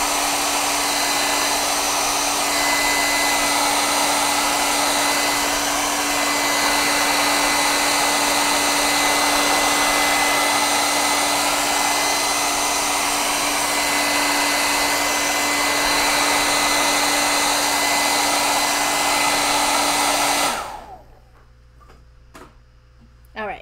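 A hair dryer blows steadily and loudly close by for about twenty seconds, drying paint on a double-sided DIY Halloween craft kit, then cuts off, leaving a quiet room.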